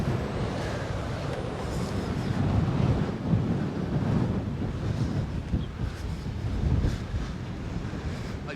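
Strong wind buffets the microphone over the constant rush of choppy sea waves at Port de Pollença, Mallorca, a loud, continuous roar with no voices.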